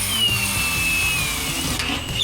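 Power tool driving bolts to fasten a new headboard onto a bare ute tray, a loud continuous whirring whine close by, steady with a brief pitch shift near the end.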